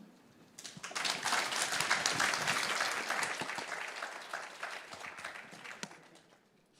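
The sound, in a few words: audience applause at a conference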